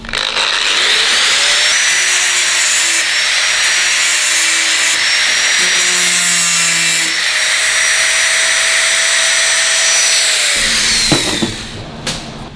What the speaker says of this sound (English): just run the grinder down the edge.